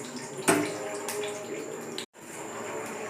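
Mustard seeds, dal and curry leaves crackle and sizzle in hot oil for a pepper chutney, a steady close hiss that opens with a sharp pop and drops out briefly partway through.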